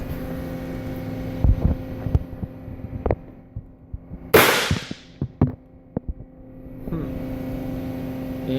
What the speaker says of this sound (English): You can test fire it. Pretty loud bang with the shotgun primer.